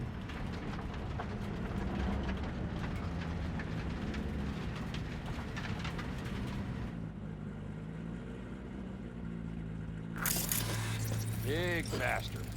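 A train rolls along in the video game Cyberpunk 2077, a steady rumble and clatter of wheels on rails for several seconds that then fades into quieter background, with a brief burst of other game sounds near the end.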